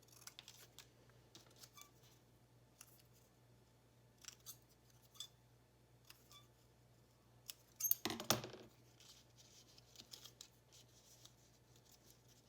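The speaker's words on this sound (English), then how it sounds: "Let's trim off a little ticket here." Scissors trim a small paper ticket with faint, scattered snips close by in a quiet room. One louder cluster of cuts lands near the middle.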